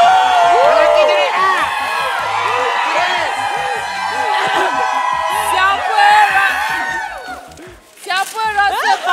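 Studio audience on a Malaysian TV game show yelling and cheering for the men's team, a loud sustained mass of whoops and shouts that dips briefly near the end before rising again.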